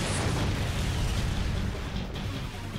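Cartoon fire attack explosion effect in a dinosaur battle game, a loud sustained rumbling blast with crackling noise that holds steady for nearly three seconds, with no voices over it.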